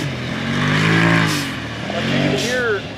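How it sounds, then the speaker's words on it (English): A turbocharged car fitted with an Evo muffler and a blow-off valve, its engine droning and rising in pitch as air whooshes through the charge tubes, then a brief hiss of the valve venting near the end, heard up close under talking. "you can hear air just whooshing through, you know, and then the blow-off"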